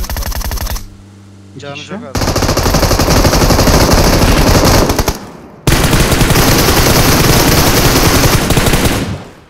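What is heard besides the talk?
automatic gunfire at a vehicle in video game PUBG Mobile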